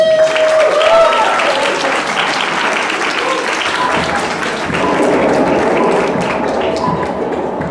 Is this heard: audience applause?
yes